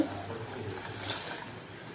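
Water pours and trickles into a simmering tomato and tamarind broth in a cooking pot, a soft, steady liquid splash heard close and faint.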